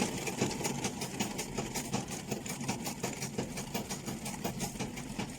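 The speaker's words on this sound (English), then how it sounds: "So I'm just going to sew it straight until I get to this point here." A sewing machine runs steadily while stitching in an invisible zipper, giving a continuous close mechanical whir with a fast needle rhythm and no talking.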